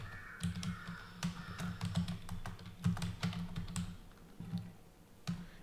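Fingers type on a computer keyboard during a C programming lesson, irregular crisp key clicks in short bursts and pauses over a low pulsing hum.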